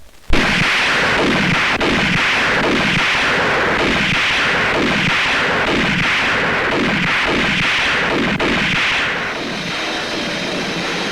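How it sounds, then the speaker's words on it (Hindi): Loud, sustained gunfire from a Hindi action film, a rapid series of repeated shots, each with a booming echoing tail, continuing without pause for most of the clip, with no talk. "गोली कहाँ चल रही है?"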